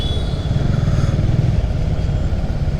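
A crowd of motorbikes jams the road at Bally Halt, the busy stop above the railway station, their engines making a continuous close drone and clatter with no break.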